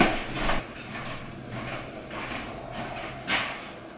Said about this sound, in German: Deswegen mache ich noch schnell die Tür zu.